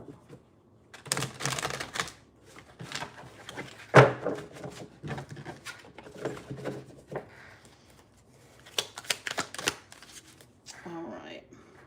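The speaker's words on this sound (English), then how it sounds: "Those did not shuffle well." A deck of cards being shuffled in bursts of riffling and handling, with pauses and a sharper knock midway, sounding close and fairly quiet.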